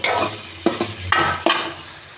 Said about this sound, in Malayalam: തക്കാളി, വെള്ളുള്ളി ഒക്കെ ഇട്ടിട്ട് കുറച്ച് ഒരു അര സ്പൂണ് ഉലുവ ഇട്ടിട്ട് ഒന്ന് വഴറ്റിയെടുക്കുകയാണ്